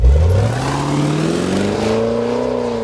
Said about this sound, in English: the Jaguar F-Pace, a performance SUV with the DNA of a sports car